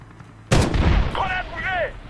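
A grenade blast in the Medal of Honor video game, a sudden loud burst that rolls into a rumbling tail, with a voice calling out over it.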